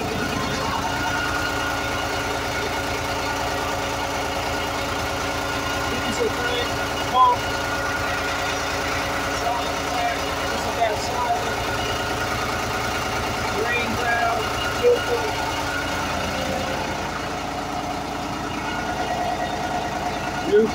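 A US Jetting 4018 sewer jetter truck runs a penetrator nozzle, giving a steady, droning engine and pump hum that continues throughout with little change and a few faint clicks.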